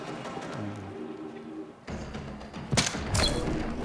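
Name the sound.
bullets hitting a shield in video game Unknown 9: Awakening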